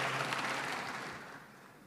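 A hall audience at a speech to IPDN cadets bursts into dense applause that is loud at first and then gradually fades over a couple of seconds.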